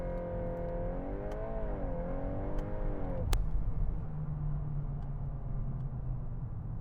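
A Volkswagen Golf R with four-wheel drive on launch control, engine held at steady high revs then rising before a sharp clunk as it launches, settling into a loud continuous drone.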